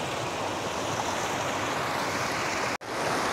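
Water rushing steadily near a hillside temple at Koti, a continuous broadband roar with no voices, broken by one brief, sharp dip just before the end.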